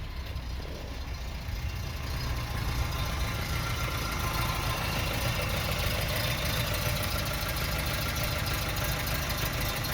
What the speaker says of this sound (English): it's got this characteristic exhaust note that these cars have.